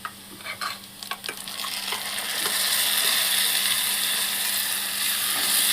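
Tamarind chutney goes into a hot pan with onions and fried ingredients, starting with a few scraping stirs and clicks before a loud, steady sizzle builds and holds.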